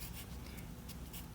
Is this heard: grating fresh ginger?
no